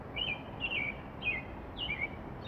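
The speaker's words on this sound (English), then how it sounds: "I believe it is a robin." An American robin singing in the evening in the Pacific Northwest, four short clear warbled phrases spaced evenly, fairly distant over a soft background hum.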